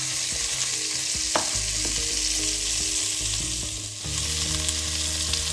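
Pork cheeks sear in a hot pan with a continuous close sizzle and crackle of frying fat, a few small knocks and clinks from cooking utensils, and no one talking.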